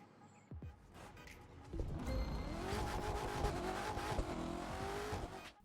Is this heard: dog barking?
no